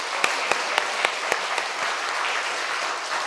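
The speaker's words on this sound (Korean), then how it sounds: "우리 하나님께 영광의 박수." A church congregation claps during a Sunday praise service, a few sharp distinct claps at first that blend into a moderate, steady round of applause.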